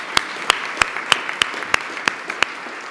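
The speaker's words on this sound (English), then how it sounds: "So please, some applause to them." A few scattered, sharp hand claps spaced about a third of a second apart, sparse and moderately loud, as a small audience applauds club staff at a members' event.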